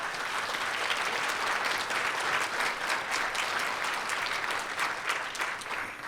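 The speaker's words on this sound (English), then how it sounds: "just give them a round of applause" Steady, moderately loud applause from a summit conference audience runs throughout, its individual hand claps slightly uneven and no voices rising above it.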